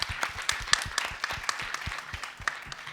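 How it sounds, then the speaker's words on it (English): An audience claps for a panel team at a UK climate resilience event, a moderate, fairly sparse patter of individual claps with distinct sharp hits, heard at a little distance without talk. "Can we have a round of applause for Team 2?"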